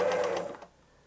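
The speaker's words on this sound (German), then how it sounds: "unsere Stichlänge steht auf 0, unsere beiden Fäden sind nach oben geholt und wir vernähen dreimal auf der Stelle" A sewing machine stitches three times in place with stitch length at zero on layered fabric, a quick burst of rapid mechanical clatter that stops abruptly, close and fairly loud, with no talking.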